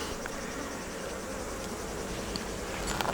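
Bees buzz near their nest outdoors, a steady close drone that fills the space without pause, faint and continuous throughout, with no talking.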